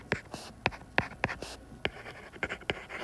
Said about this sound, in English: I'm just going to kind of sketch them